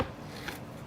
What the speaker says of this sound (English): I'm just going to cut it into little bits